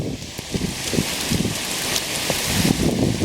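Rain falling steadily outdoors, a dense close patter of drops on surfaces with a gusty rustle underneath, loud and continuous with no speech.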